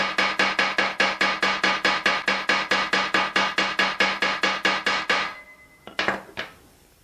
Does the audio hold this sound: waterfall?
no